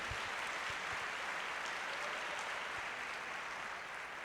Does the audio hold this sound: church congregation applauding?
yes